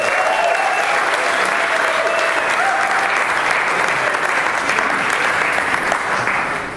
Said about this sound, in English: So let's have a round of applause for Robin and Steph again.